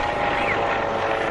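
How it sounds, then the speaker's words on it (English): A police helicopter flies low overhead in London, its rotor and engine making a loud, continuous whirring roar that stays steady and close. "That's the police helicopter."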